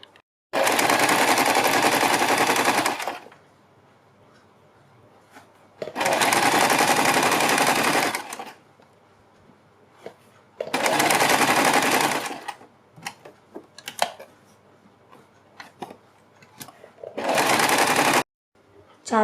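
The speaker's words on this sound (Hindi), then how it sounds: "इसके ऊपर एक सिलाई लगाएंगे" Sewing machine stitching a kurti neckline on fabric, running in four loud bursts of a few seconds each separated by quieter pauses with faint handling sounds.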